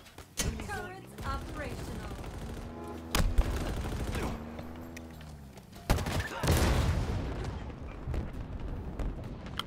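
A mounted gun fires in the shooter game Halo Infinite, with sharp bursts and heavy impacts punctuating a busy battle mix, over music and game voices.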